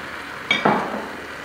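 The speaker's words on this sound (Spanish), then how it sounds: "Está el tomate, se rehoga un poquito con el pimiento y la cebolla." Tomato sautéing gently over low heat with pepper and onion in a pan, a soft sizzle with a brief stir and clink of a utensil partway through, close and fairly quiet.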